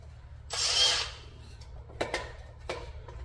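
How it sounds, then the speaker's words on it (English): A power drill makes one short whirring burst as it drives a screw into the face of a timber piece, followed by a few faint clicks and knocks in a quiet room. "put a screw into the face of the wood."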